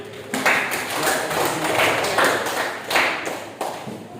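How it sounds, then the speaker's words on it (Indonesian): A classroom group claps, irregular hand claps and taps building and fading in several bursts over a few seconds, close and fairly loud, with no speech over them. "Berikan aplaus untuk"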